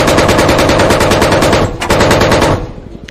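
Sustained automatic gunfire from the video game Squad, loud, dense and rapid, with a brief dip near the middle before bursting again and then tapering off at the end.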